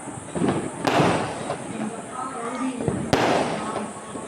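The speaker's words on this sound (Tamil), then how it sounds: "கலர் கலராக வெடிக்கின்றது" Fireworks go off across a neighbourhood sky in a dense, rumbling crackle, with two sharp, loud bursts standing out above the continuous roar of distant explosions; a voice talks over it.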